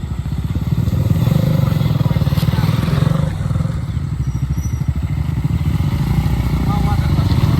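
KTM Duke 390 motorcycle crossing water, its engine throbbing steadily and close with a pulsing low rumble and some clattering and splashing, while people talk over it.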